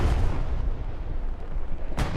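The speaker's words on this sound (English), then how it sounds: "Big juicy Axis bomb wave." Axis bombing run in Hell Let Loose over a beach, heard as a continuous heavy rumble of explosions, loud at first, easing slightly, then a sharp fresh blast near the end.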